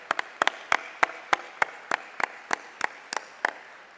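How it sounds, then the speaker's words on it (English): Sparse, evenly spaced hand claps at an enlistee recognition gala, a few people clapping in a steady rhythm rather than full audience applause, moderately close and fairly quiet. "Give them a round of applause."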